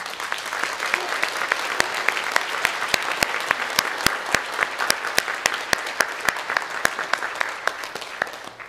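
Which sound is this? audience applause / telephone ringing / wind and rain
audience applause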